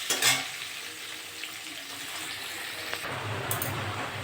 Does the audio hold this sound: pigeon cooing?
no